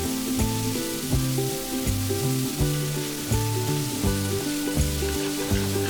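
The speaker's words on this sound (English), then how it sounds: "fry this for another 2 to 3 minutes" Tomato masala sizzles steadily in a pan for a Madras chicken curry base, a continuous frying hiss partly masked by loud melodic background music throughout.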